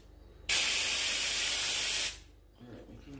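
A spray can blasts a long, loud, steady hiss at a lizard for about a second and a half, then cuts off, leaving quieter background noise.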